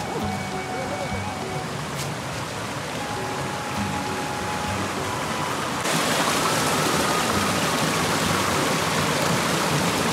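A cold, glacier-fed mountain stream rushes steadily nearby, a continuous broadband roar of flowing water that swells a little louder partway through.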